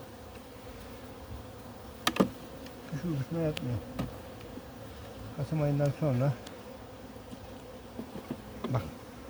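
Close honey bee buzzing at a hive in bursts that rise and fade, in late autumn, with someone speaking quietly between and over the buzzing.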